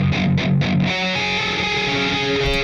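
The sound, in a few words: distorted djent electric guitar tone through Bias Amp 2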